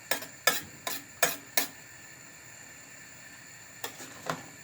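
A spoon scrapes through a pot of cabbage with tomato paste in five quick rhythmic strokes, then a pause and three more, close and fairly quiet.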